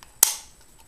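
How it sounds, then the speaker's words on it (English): A single sharp metallic pop as a tool punches a hole through a thin tin can for a stove, close and brief, followed by quiet. "And punch a hole."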